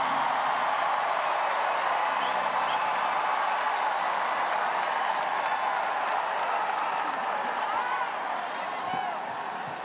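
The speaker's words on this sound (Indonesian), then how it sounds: "Kok tepuk tangannya paling keras nih" Crowd applause and cheering at a political declaration event, a broad continuous roar of clapping from a large audience that stays level for several seconds, with a faint murmur of voices beneath.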